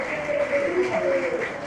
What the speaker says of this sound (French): Continuez les applaudissements s'il vous plaît.